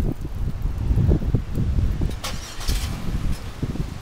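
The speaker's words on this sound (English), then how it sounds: "It's got a remote start." A 2005 Buick LaCrosse with under 3,000 miles starts up by remote start outdoors. Low rumbling engine pulses and uneven chugging come through wind buffeting on the microphone, close by and with no speech.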